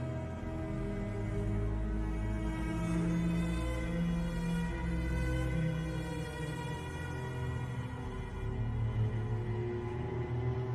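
Sustained orchestral menu music from the game Dead by Daylight plays with warm low strings and layered harmonies, steady and moderately quiet throughout, no voices.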